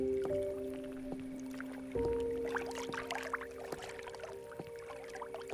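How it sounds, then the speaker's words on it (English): Water splashing, dripping and squishing in a video game scene, steady and moderately close, layered with soft tonal game music and occasional small clicks. "I love listening to water."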